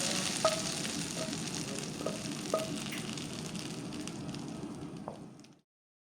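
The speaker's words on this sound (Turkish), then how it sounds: "Üzerine tereyağı ve nane yaktım. Bu şekilde onu da gezdiriyorum." Hot butter with mint sizzling as it is drizzled over a Turkish yuvalama yogurt dish, a steady close crackling fry with a few small pops that trails off and stops near the end.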